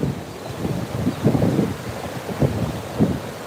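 Ocean waves wash onto a beach in Pensacola at sunset, steady broadband surf with several louder breaking swells rising and falling, mixed with wind buffeting the microphone, no talking.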